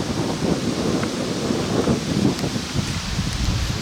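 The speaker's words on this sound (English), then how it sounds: "now I'm battling not only the strong current, but this wind as well, these wind gusts, which is quite difficult." Strong wind gusts roar and buffet across the open air beside a fast-flowing river in the Canadian wilderness, a constant broad rushing wash with no voices.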